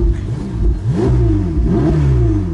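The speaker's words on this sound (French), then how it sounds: "C'est un bruit beaucoup plus caverneux, beaucoup plus grave, beaucoup plus rauque que la 458" A Ferrari engine revs in repeated loud, close bursts with a deep, cavernous, raspy tone, rising and falling in pitch, heard alone.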